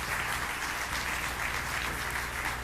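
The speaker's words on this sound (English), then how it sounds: "Let's give him a round of applause." Steady applause from an audience at a government event where the New York governor speaks, sustained and fairly faint at a distance throughout.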